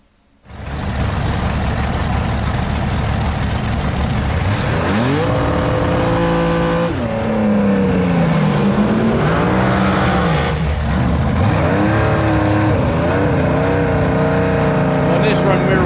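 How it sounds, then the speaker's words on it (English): A blown big block alcohol front-engine dragster races flat out, its engine roaring loud and close with pitch sweeping up through gear changes, under a talking voice. "we were running a blown big block alcohol front engine dragster"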